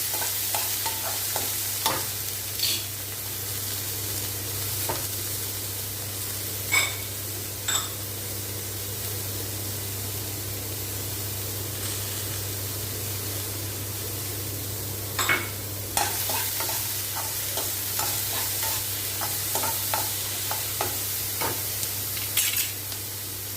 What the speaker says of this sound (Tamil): வத்த மிளகாய் கொஞ்சம் கேப்சிகம் லைட்டாக வதங்கும் போது வெங்காயம் தக்காளி எல்லாமே சேர்ந்து நல்லா வதங்கட்டும்